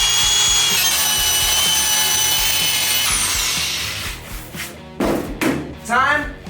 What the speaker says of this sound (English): First thing we gotta do to prep this paint is peel off the stickers using this fancy eraser